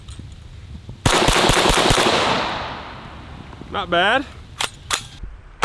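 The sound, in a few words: MAC-11 9mm gun firing rapid shots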